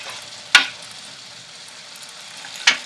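Zucchini, bacon and broccoli sauté in a pan with a steady soft sizzle, punctuated by two sharp scraping clatters of the utensil about two seconds apart, close by with no talk.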